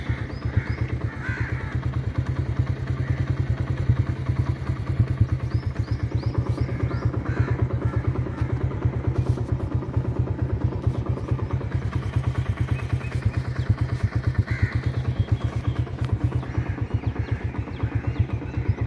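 A motorcycle engine runs steadily with a rapid, even rumble for the whole stretch, heard up close and outdoors, while crows caw repeatedly in the background.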